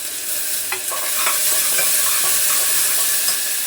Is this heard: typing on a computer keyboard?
no